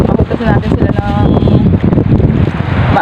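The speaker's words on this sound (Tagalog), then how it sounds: "Malakas yung hangin hamihan." Strong northeast monsoon wind buffets the microphone at the shore during low tide, a loud continuous roaring rumble with gusting swells, while someone talks over it.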